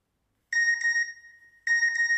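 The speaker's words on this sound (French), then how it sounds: "Ah, c'est pas mal comme signal de double appel." An electronic call-waiting beep from the Imparato sound library, with two short bursts of bright tonal pips separated by a pause, loud and isolated against silence.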